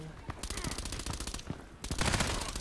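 Rapid automatic fire from an RFB rifle in the video game Contract Wars, a dense, fast string of loud close shots that pauses briefly, then bursts back harder.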